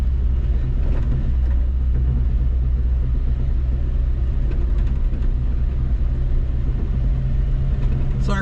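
A 1979 Chevy LUV truck drives along with a loud, steady low engine rumble heard from inside the cab, continuous and unbroken throughout.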